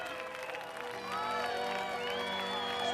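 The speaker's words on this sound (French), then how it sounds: "On l'applaudit bien fort." Crowd applauding and cheering for a winner at an event, a brief steady wash of clapping with a few shouts, moderately faint.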